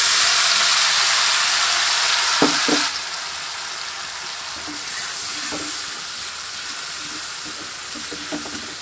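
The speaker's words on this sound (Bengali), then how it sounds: "তারপরে একটু ভেজে নিয়ে এই পেস্টটা যে করে রেখেছিলাম সেই পেস্টটা দিয়ে দিলাম।" Cloves, cardamom, bay leaf and a spice paste frying in a pan, a loud hissing sizzle that drops in level partway through, with occasional spoon knocks and scrapes, close and no talking.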